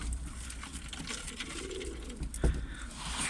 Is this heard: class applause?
no